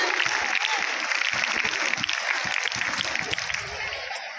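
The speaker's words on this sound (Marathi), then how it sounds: "इथं जोरदार टाळ्या होऊन द्या मित्रांनो. स्काउट क्लॅप गो." Crowd applause at a school prize-giving for a Ganesh festival display contest in Chikhli, a dense, steady clatter of many hands that continues evenly for the whole stretch with no talk over it.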